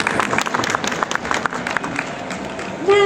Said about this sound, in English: Come on, a round of applause, guys, come on